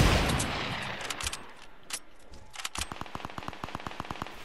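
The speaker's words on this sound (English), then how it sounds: "There's somebody else shooting at them." Gunfire from the Fortnite game sounds as scattered single shots followed by a steady, rapid burst of automatic fire, moderately loud and slightly distant, with no talking over it.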